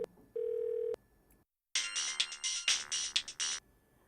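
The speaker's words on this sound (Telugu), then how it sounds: "సంధ్య ఫోన్ చేస్తుంది" A phone rings: a single steady electronic tone, a short pause, then a bright, warbling ringtone pattern close by.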